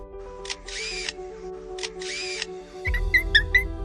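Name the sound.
camera shutter sound imitated by a wild bird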